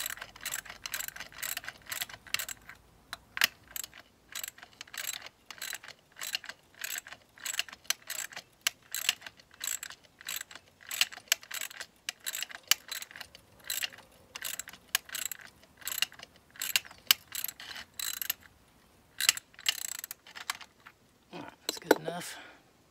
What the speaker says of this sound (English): I'm going to go ahead and tighten this with this ratchet